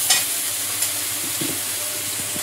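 Garlic paste frying in hot oil gives a steady, close sizzle, with a few soft stirring scrapes and a brief clatter near the start.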